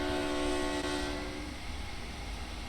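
Eurostar train horn sounding both horns together in Train Sim World 2, a loud steady two-tone blast held for about a second and a half before cutting away to rumbling train noise.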